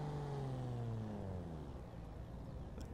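A Toyota Supra tuned to about 1000 horsepower drives up in the racing game Forza Horizon 2, its engine note sweeping down as it decelerates, loud and sustained.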